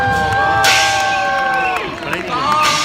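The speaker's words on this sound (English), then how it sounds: "Ladies and gentlemen, give them a massive round of applause." Large outdoor crowd at the London New Year's Day Parade in Westminster, cheering and clapping loudly in a steady wash, with whistles and a sustained horn-like tone running through and a surge of noise partway.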